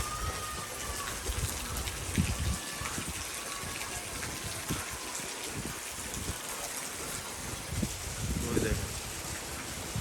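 Steady heavy rain pours outside during a severe storm, a dense wash of noise throughout, with occasional low rumbles and brief voices in the background.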